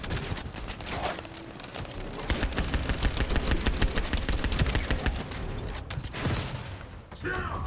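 Rapid automatic gunfire from a light machine gun in a video game, loud and sustained bursts of dense cracking shots with brief pauses, over background game noise.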